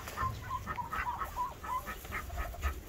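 Backyard chickens cluck in a steady run of short, mid-pitched calls, fairly close against a low rumbling background, with no one speaking.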